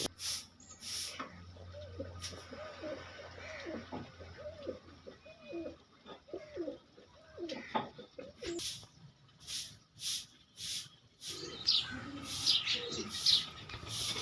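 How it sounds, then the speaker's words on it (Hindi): Pigeons coo in low, rolling calls outdoors, with sharper bird chirps rising over a faint background near the end. "ये कबूतर आपको नज़र आ रहे हैं"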